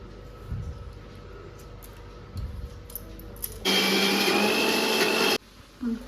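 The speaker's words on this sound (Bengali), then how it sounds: "বন্ধুরা, চাউলের ডাইলে ভিজাই রাখছি, এগুলা এখন বাটুন।" A mixer grinder whirs loudly through soaked rice and lentils for a burst of under two seconds, preceded by quieter clattering and handling noises, then cuts off abruptly.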